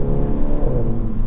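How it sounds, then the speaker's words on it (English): A 2022 Mini JCW Convertible engine drones loud and close as it revs through a gear change, a steady throaty hum with a slight shift in pitch near the end. "I love the sound it makes when it changes gears."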